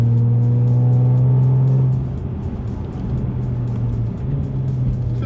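A Jaguar XE S engine holds a loud, steady drone, then drops in pitch after about two seconds as the gearbox shifts up, and settles into a lower hum. It is heard from inside the car and no one speaks.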